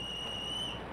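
A brief, thin high-pitched whistle tone aboard HMS Belfast in a warship roleplay game, steady and fairly faint, lasting under a second.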